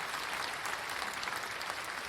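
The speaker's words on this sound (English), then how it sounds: "that's your crowd outside, the London crowd, saying we want to thank all health workers and Daniel Pemberton" A London crowd outdoors applauds health workers, a dense, continuous wash of clapping heard from a distance and steady throughout, with no voices over it.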